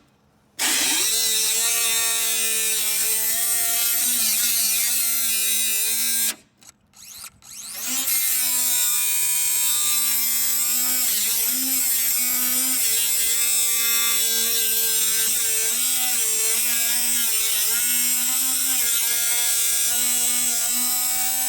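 A DeWalt cutoff power tool runs loud and close with a steady high whine, cuts out briefly near the middle, then spins back up and keeps droning, with no talk over it.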